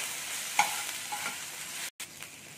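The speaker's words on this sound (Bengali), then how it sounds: "এবারে দিয়ে আমি এইটাকে একটু নাড়তে থাকবো যাতে আদাটা একটু ভাজা হয়ে যায়" Ginger and green chillies fry in a pan while being stirred, giving a steady close sizzle with a few scraping clinks of the spoon and a brief dropout near the end, with no talk.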